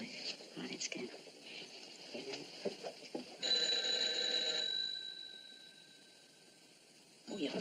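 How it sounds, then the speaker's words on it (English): A telephone bell rings in a 1943 film scene, one steady burst of about a second under soft, quiet dialogue, with murmured voices before and after. "Oh, your phone's ringing."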